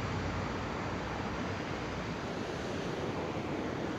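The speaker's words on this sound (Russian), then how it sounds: "И целый водопад." Waterfall roaring through the Khadzhokh gorge, a steady dense rush of falling water that stays constant and loud, with no voices.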